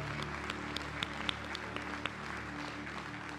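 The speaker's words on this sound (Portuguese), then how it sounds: "Aplaude ele, aplaude." A church congregation applauding during a sermon, a thin, fairly faint patter of scattered claps over a steady low hum, with a few sharper individual claps standing out.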